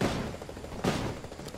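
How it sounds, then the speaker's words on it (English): Video game gunfire, loud bursts of shots with a heavy blast near the middle over a constant rumbling combat background, close by. "Taking fire!"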